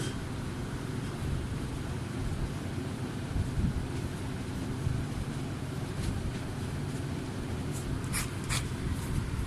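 A pen scratches steadily across paper while working through a gravitation calculation, a faint continuous scribble under a broad hiss of room and microphone noise, with a few brief taps near the end.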